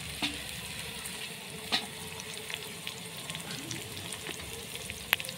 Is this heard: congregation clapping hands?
no